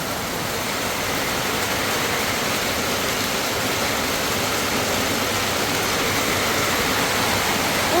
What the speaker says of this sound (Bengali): শুরু হয়েছে ঝোম বৃষ্টি